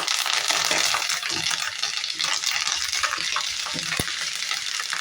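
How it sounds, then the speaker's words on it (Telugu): Dried red chillies and curry leaves fry in a hot pan for a kidney bean and tomato curry, giving a steady, close sizzle with occasional stirring clinks throughout and no talk. "బాగా ఫ్రై అయ్యేటప్పుడు ఎండుమిర్చి కరివేపాకు వేసుకున్నాము"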